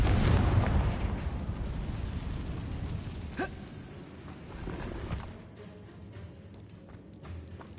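A Confringo blasting curse from Hogwarts Legacy goes off in a loud burst with a deep rumble, then fades. Smaller pops and crackles trail after it.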